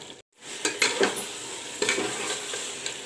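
Masalas frying with mutton in a pan, a steady sizzle after a brief silence, with a few clattering stirs and scrapes of a spoon.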